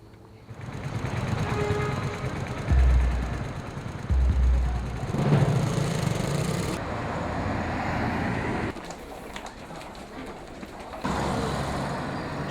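Traffic fills the middle of a downtown city: a continuous rumble of car and truck engines with heavier low swells as vehicles pass, broken by a few abrupt shifts in level.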